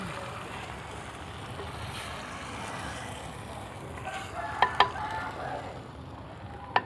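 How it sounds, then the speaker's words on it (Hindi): Fish pieces frying on low heat in a pan for a fish curry make a steady, moderate sizzle, with a few sharp clinks of a utensil near the end. "अब इसको मैं अच्छी तरह भून लूँगी।"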